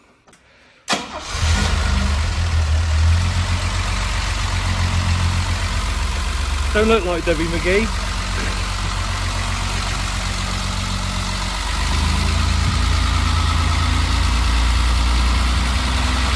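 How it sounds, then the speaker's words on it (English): A 1968 Mercedes-Benz W108 280 SE automatic with a straight-six engine cranks and fires up, then settles into a steady, close, loud idle with a low rumble, while a person briefly speaks over it. "Lovely straight six engine."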